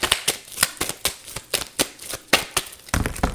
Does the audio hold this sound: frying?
no